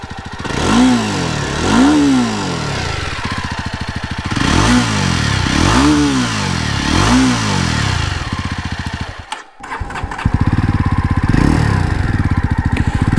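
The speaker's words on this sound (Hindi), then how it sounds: "इसका एग्जॉस्ट नोट सुन लेते हैं" A Jawa Special Edition Khakhi motorcycle revved through its exhaust in repeated throttle blips rising and falling from idle, close and loud, followed by a steadier running engine note after a brief drop.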